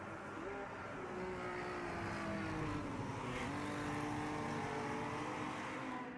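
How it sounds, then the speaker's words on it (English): A 1986 Chevrolet Opala stock car races around the Cascavel circuit in Automobilista 2, its engine droning steadily and shifting pitch as it accelerates, a sustained loud roar throughout. "something a bit more retro, like an Opala stock car from 1986 around Cascavel."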